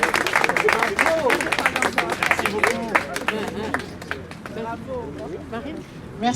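A crowd applauds and cheers loudly at a Congolese gathering in Paris, with dense sustained clapping mixed with shouting voices and babble throughout.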